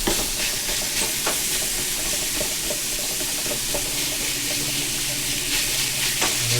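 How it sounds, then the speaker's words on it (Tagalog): Ground meat, already seasoned with salt, garlic and onion, fries and sizzles loudly in a pan, with a steady hiss and occasional scraping from stirring throughout. "Lutuin ko lang mabuti yung giniling."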